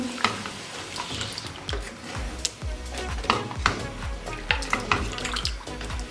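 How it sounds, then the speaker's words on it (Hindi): Mutton korma stirred in a cooking pot after half a cup of water is added, with spoon scrapes and knocks against the pot over a soft sizzle. "अब इसको अच्छे से मिक्स कर लेंगे।"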